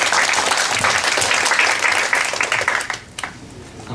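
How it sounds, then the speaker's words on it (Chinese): An audience at a university sports-science lecture bursts into warm applause to welcome a professor, a dense clatter of many hands that thins out and fades near the end. "我们一起来热烈掌声欢迎我们张老师"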